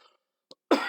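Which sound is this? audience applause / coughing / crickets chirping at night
coughing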